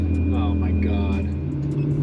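A Ferrari 360 engine idling as it warms up, a steady low rumble with a constant hum, heard close beneath a person talking.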